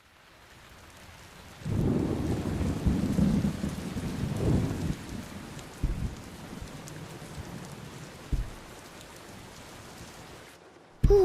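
Heavy rain and rolling thunder, a low rumble swelling after a quiet start, then steady rainfall with a few sharp cracks and distant booms.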